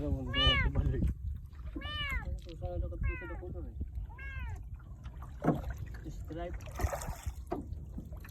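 A thin rescued cat meows repeatedly amid floodwater, several drawn-out, close cries over a steady low rumble of water or a boat, with a person talking nearby.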